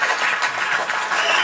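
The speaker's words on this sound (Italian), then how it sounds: "un applauso per i bambini" Audience applause for children on a charity TV show, a short burst of dense, steady clapping heard alone.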